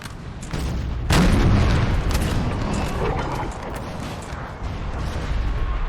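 Artillery booms across a Napoleonic battlefield at Leipzig in Napoleon Total War as cannons soften up a French line facing an Austrian assault. One heavy blast stands out over a dense, rumbling wash of continuous battle noise.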